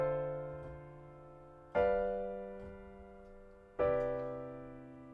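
Three sustained piano chords, seventh and ninth voicings over the bass, each struck cleanly and left ringing to decay, played alone and close.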